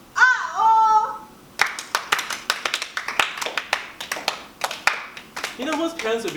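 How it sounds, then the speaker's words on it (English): Parents clapping by hand: a quick, uneven run of sharp claps close by, with a voice before it and again at the end. "My parents clapped when they heard it."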